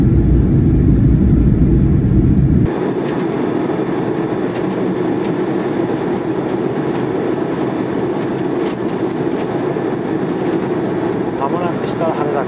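Inside an ANA domestic airliner cabin on landing approach into Haneda from Itami, a loud steady roar abruptly drops after a few seconds to a lower, constant hum with faint rattles.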